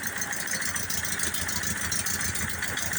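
A 4 kW Onan generator engine runs on choke, a steady close drone with a rough, slightly uneven mid-range rumble and no breaks across the span.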